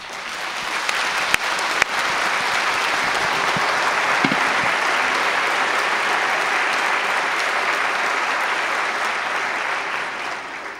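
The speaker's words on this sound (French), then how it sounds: "J'étais sûr que vous auriez des applaudissements." A large audience at a panel discussion claps in a long, even ovation lasting about ten seconds, dense and sustained with a few sharper individual claps standing out early.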